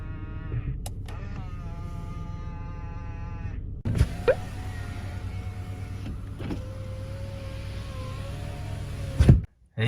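Electric folding side mirrors on a Renault Samsung New SM5 sedan whirring as the motors run, two short motor hums in a quiet parked car, close and clear.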